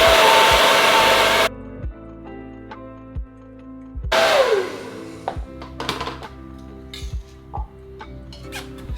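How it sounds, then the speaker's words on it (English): A hairdryer blows loudly at a car bumper to dry fresh paint, running briefly before switching off, then returns with a whining spin-down, followed by scattered ticks and small knocks of handling. "Just going to speed up the drying time with a hairdryer."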